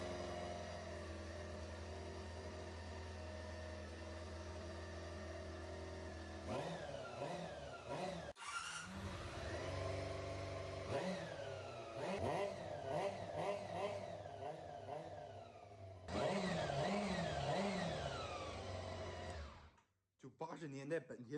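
A 1987 Honda motorcycle engine idles steadily, then revs repeatedly in rising and falling surges, with a brief gap and a final burst before cutting out.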